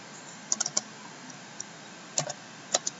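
Keys on a computer keyboard click quietly in a few short, uneven bursts with pauses between them, like someone typing a single word into a search box.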